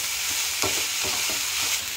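Shredded chicken and garlic frying in a pot with vegetables, a steady bright sizzle broken by a few stirring scrapes, close up and without voices.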